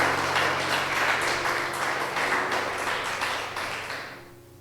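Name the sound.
congregation applauding in church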